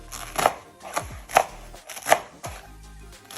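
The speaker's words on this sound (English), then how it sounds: "Onto our Chinese bok choy, I'm just gonna slice the ends off, and then we're gonna thinly slice again on diagonal" Knife chopping through Chinese bok choy on a cutting board: several crisp, distinct cuts at an uneven pace, close and clear, with no talking.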